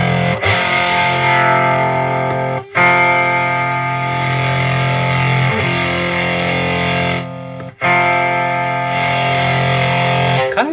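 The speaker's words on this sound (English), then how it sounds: "Kind of sounds to me like it's blending between fuzz and clean." An electric guitar played through a vintage 1970s Morley Power Wah Fuzz pedal rings out in sustained, buzzy distorted chords, briefly cut off twice before resuming at steady loudness, with no talking.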